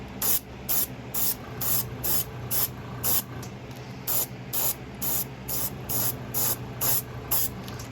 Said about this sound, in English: Make sure it's spraying.